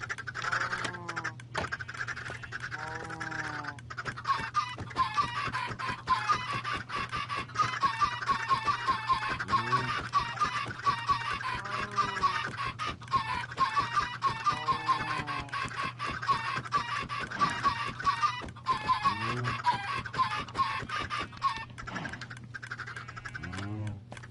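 Chickens cluck and squawk in a dense, continuous chorus with many overlapping calls, close and busy, over a steady mechanical hum.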